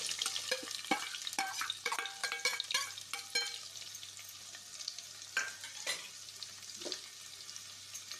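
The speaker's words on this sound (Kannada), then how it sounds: "ಬಿಸಿ ಆದ ನಂತರ ಅದಕ್ಕೆ ಸ್ವಲ್ಪ ಜೀರಿಗೆ, ಸಣ್ಣದಾಗಿ ಹೆಚ್ಚಿದ ಈರುಳ್ಳಿ 2." Cumin and finely chopped onion frying in hot oil for a chicken green masala, with a busy crackling sizzle and quick spatula stirs that are denser at first and then settle into a softer fry, heard alone.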